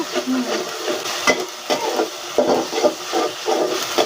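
Spice paste with ginger and garlic stir-fried in oil, a soft hiss and sizzle broken by repeated scraping strokes of a spatula in the pan, close and fairly quiet, with no talking.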